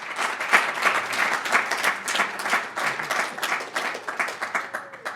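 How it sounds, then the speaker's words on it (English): A live audience at a university ideas-exchange talk breaks into a sustained round of applause, many hands clapping densely and steadily for about five seconds before starting to thin out. "let's get a big round of applause"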